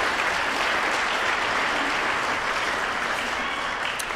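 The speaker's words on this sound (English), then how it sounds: "let's give him a round of applause here" A church congregation claps at a traditional worship service, dense steady applause filling the room throughout at moderate loudness.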